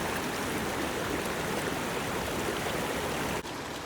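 A river in Tad Lo, Laos rushes in a constant, dense wash of flowing water, close and loud, briefly dipping near the end.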